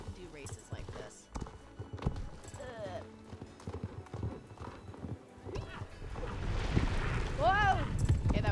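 Horse hooves galloping in the Star Stable video game during a western race, rapid clip-clop rhythm with whinnies rising near the end, heard under a person talking.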